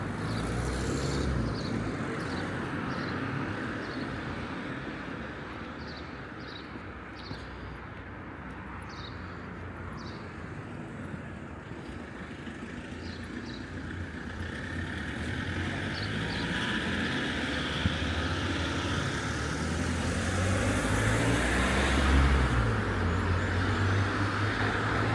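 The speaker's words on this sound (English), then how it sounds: "As soon as I wanted to talk, the city just comes alive with traffic." Early-morning town traffic rolls through Portarlington, Ireland, at sunrise. A steady, fairly distant road rumble of passing cars and heavier vehicles swells toward the end, with no voices.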